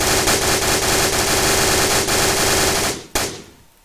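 Rapid automatic gunfire from a gun in the Minecraft Flans mod, a loud, dense burst of shots running for about three seconds before cutting off, followed by one last shot and a fading tail.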